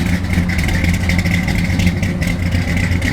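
A 1957 Chevrolet 210 idles loud and close through exhaust pipes tucked underneath. The rumble is rough and steady, with a constant low drone throughout.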